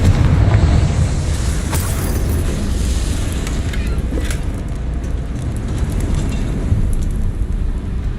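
A Confringo blasting spell explosion in Hogwarts Legacy: dense, loud, continuous rumbling roar with crackling bursts layered over it, sustained throughout without pauses.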